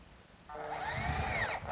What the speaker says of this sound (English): that also gets fastened with a few drywall screws